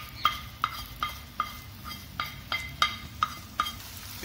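Palak paneer stirred in a pan with a spoon: a run of about ten light scraping knocks in an uneven rhythm, close and clear, over a soft steady sizzle, with no talking.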